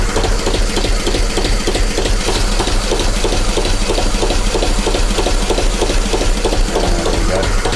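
A vintage narrowboat engine runs loud and close, a steady thudding mechanical chug with no break as the boat is put into gear at a marina mooring.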